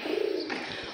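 Racing pigeons that have just landed after a 25-kilometre race give a single soft, close coo over steady background noise, with no talking.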